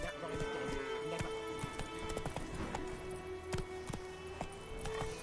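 Roach, Geralt's horse in The Witcher 3 video game, clip-clops along in steady hoofbeats, with a sustained musical score and game ambience running underneath.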